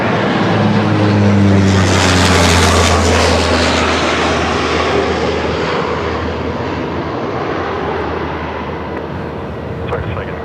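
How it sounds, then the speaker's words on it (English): A Rex propeller airliner runs its engines at Melbourne Airport, a loud steady droning roar up close that slowly eases over about ten seconds. "There you go, a bit of prop action for us now."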